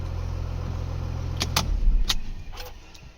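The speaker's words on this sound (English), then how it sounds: "Start the vehicle fine." A 2013 Porsche Panamera started with its worn spare key: a low engine rumble builds and swells near the car, accompanied by sharp clicks and key jingles, then settles back down.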